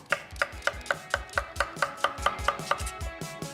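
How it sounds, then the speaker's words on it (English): A knife chops food on a board for a gazpacho, about thirteen crisp, evenly spaced strikes that quicken slightly, each with a woody thud, close and alone without any voice. "Slice that in half. Again, into quarters and chop"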